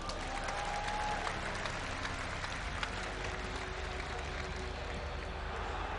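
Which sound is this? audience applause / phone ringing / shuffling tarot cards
audience applause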